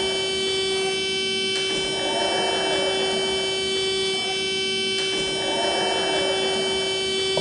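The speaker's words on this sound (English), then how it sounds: "Sounds like we have a trouble alarm sounding." A campus fire alarm panel sounds a trouble alarm, giving a steady electronic buzzing tone with short repeating pulses, loud and continuous across the whole stretch.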